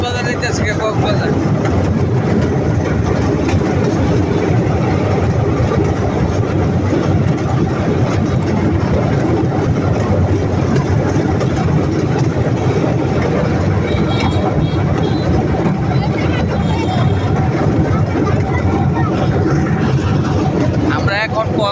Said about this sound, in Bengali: এই যে ট্রেন উঠছে